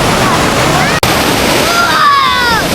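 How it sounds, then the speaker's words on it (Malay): Waves washing on the beach at Sabang, a steady loud surf and water rush throughout with a brief dropout near the middle, and a voice talking over it. "So inilah suasana dekat tepi pantai kat sini."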